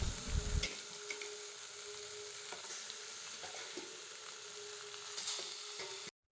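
Pieces of hilsa fish sizzle and spit in a dry wok with no oil, a steady broadband frying hiss with a few soft knocks and one louder clatter at the start, continuing alone without talk.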